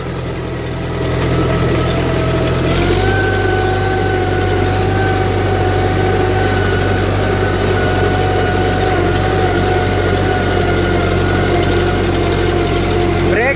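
A village tractor engine idling steadily up close, a low rumbling hum with a faint mechanical whine, holding an even loud level throughout with no voices.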